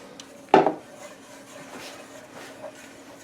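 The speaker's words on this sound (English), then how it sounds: "And then keep stirring it for a little while." A spoon knocks once sharply against a pan, then scrapes and stirs softly through melting butter and brown sugar for caramel corn, quiet and close.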